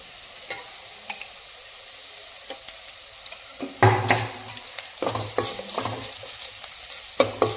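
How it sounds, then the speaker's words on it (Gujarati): Ginger garlic paste sautés in a pan for paneer tikka masala, with a soft sizzle under repeated spoon scrapes and clinks against the metal that grow busier toward the end. "જેમ આદુ લસણની પેસ્ટ સતળાશે ને તેનો ગ્રેવીનો ટેસ્ટ એકદમ સરસ આવશે"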